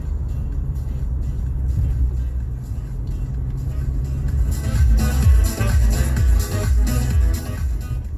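A 2017 Honda Civic Type R engine while driving, a steady low rumble with a slight swell midway, heard from inside the cabin with no talking.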